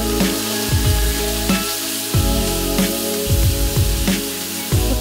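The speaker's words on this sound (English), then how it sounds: "get them straight out of the boiling water, toss them into your wok and here we go with dark soy sauce." Udon noodles stir-frying in a wok with dark soy sauce, a loud steady sizzle with repeated bursts of scraping and tossing, close up and without talk.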